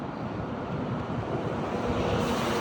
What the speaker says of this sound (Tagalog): Lumipad ang sombrero ni Chima sa lakas ng